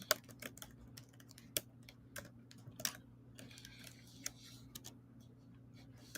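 Rapid, uneven keystrokes clatter on a computer keyboard, clicks coming in bursts and pauses over a low steady room hum, fairly close and moderately loud, with no talking.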